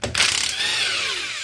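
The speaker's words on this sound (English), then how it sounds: "We're using power tools." Power tool driving off the stands from an engine during a motor teardown, a loud whirring burst that winds up then slowly spins down, close and alone.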